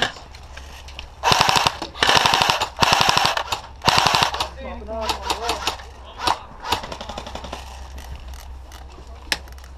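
Airsoft gun firing on an outdoor field after its magazine was fixed, several rapid full-auto bursts close by, then scattered single shots and distant fire, with voices talking in between.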